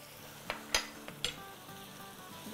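Garlic and ginger paste frying with onions in a pan, a steady low sizzle broken by a few sharp clicks and scrapes of a spoon against the metal.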